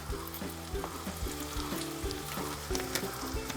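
Mutton curry sizzles steadily in a pan as coriander powder goes in, giving a dense close frying hiss with light stirring and no voices.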